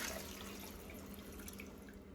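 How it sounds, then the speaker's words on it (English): Hot water from a bowl that held marinating goat for curry is poured into a pot, a soft, steady, faint trickling and splashing that runs continuously throughout. "in the bowl that the goat was marinating in, I added about 3 cups of hot water. And I'm gonna pour it into here."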